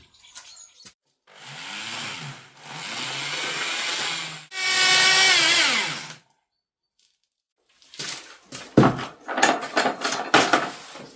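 A drill mixer churning lime mortar for pointing cottage stone steps, running in several loud bursts with rising and falling motor whine, then a gap of silence before scraping, knocking clatter of tools against the mix.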